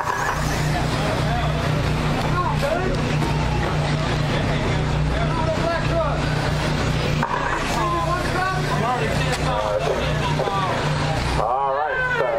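Remote control trucks race around a dirt track at a championship event, their high electric whine rising and falling continuously under loud commentary and crowd noise.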